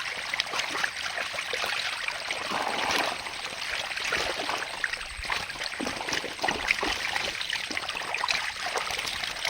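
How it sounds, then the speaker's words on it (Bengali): Water flows steadily through a village pond drain where fish are gathered, giving a continuous broad trickling and splashing rush that stays fairly close and even throughout, with no talking. "তোমাদেরকে একবার মাছের সাথে জলের আওয়াজটা শুনিয়ে দিচ্ছি"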